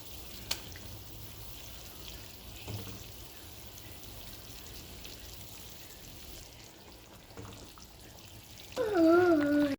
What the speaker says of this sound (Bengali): ঝোলটা ফুটে উঠেছে, এর মধ্যে এবার ভেজে রাখা কোপ্তাগুলো দিয়ে দিচ্ছি।